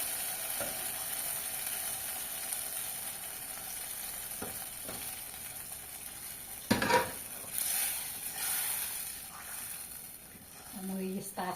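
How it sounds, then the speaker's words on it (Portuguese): Beans tipped into a pot of golden fried garlic: a steady sizzle and frying hiss with a sudden loud burst as they go in, then softer bubbling and stirring. "O alho já está dourado, né, meus amores? Agora é só colocar aqui o feijão."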